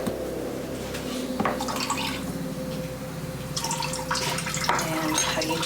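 Water is added by hand to patch tart dough, with trickling and dripping splashes in bursts over a steady low room hum.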